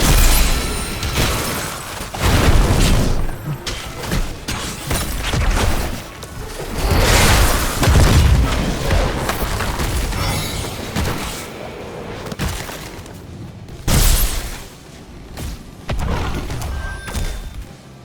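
Cannon shots and impacts in the game Heroes of the Storm, a series of loud booming thuds and crashes with whooshes in a busy team fight, heavy blasts recurring every few seconds.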